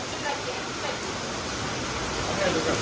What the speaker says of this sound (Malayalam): പുറത്ത് നല്ല മഴ കേട്ടോ.